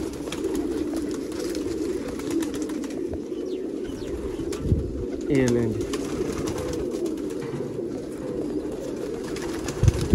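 Pigeons coo softly amid a steady outdoor murmur, with a brief spoken phrase and some rustling nearby.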